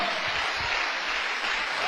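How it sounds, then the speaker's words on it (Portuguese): Congregation in church applauding the Lord, a steady dense wash of clapping that holds evenly for a couple of seconds, fairly close and full. "Uma salva de palmas para o Senhor."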